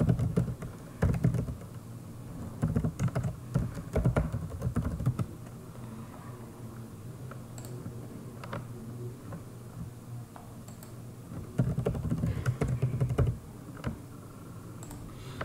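Typing on a computer keyboard to enter an email address and password, with steady clicking keystrokes through most of the stretch and denser bursts near the start and end.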